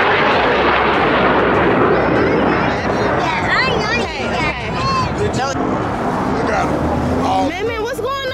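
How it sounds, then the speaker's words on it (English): Several airplanes flying overhead at a crowded outdoor gathering, a loud roaring engine drone with rising and falling whines, heard under excited crowd chatter and voices throughout. "Is it a lot of airplanes? How many airplanes is it?"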